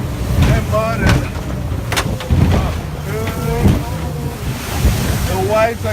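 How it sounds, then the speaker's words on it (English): Ocean waves surge and splash over a boat's top in two-meter swells, rolling washes of water under gusty wind noise with a steady motor drone and a few voices. "The waves are coming over the top."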